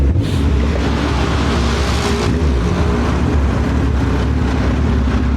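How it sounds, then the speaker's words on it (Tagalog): Strong wind buffets the microphone with a constant low rumble and roar, no voices present. "Ah, lakas ng hangin."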